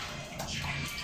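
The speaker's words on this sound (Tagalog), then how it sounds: "hugasan ko muna kasi masyadong maitim" Running water pours steadily over a blackened item being washed, a close, continuous splashing hiss with no talk.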